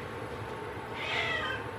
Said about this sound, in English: Oh, the kitty cat.